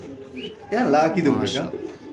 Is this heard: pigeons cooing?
yes